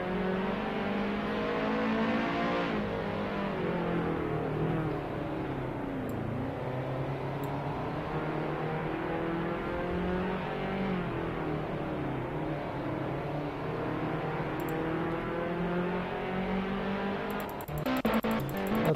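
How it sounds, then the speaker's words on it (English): Race car engines drone and rev continuously in a sim racing game, with a loud, steady, close engine note that rises and falls through gear changes, and no one talking. "Mike's car is right behind me."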